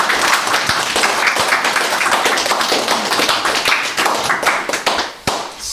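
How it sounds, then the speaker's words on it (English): At the opening of a peace centre, a small audience claps close by. Individual hand claps are distinct and dense, and the applause runs steadily for several seconds before a few final claps. "Let's give a round of applause"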